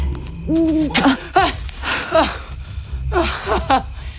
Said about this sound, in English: It was just an owl.